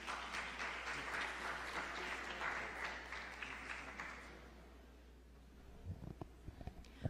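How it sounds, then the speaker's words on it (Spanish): Audience applause at an academic talk, a dense steady patter of clapping over the first five seconds that then fades away, leaving a few scattered claps and small knocks near the end. "Le damos un aplauso, por favor."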